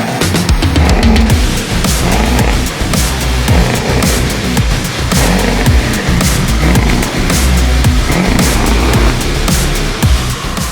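A diesel vehicle engine idles close by, a loud, steady rumble with a rough low throb and a continuous broadband clatter over the whole stretch, with no voices.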